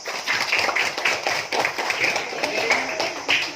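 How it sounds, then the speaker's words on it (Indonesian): A school class clapping together for a group of students, a dense patter of many hands sustained for a few seconds at moderate volume. "kita kasih tepuk untuk kelompok 4"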